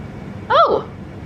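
A single short meow from a kitten, close and fairly loud, its pitch rising then falling, over a quiet room background.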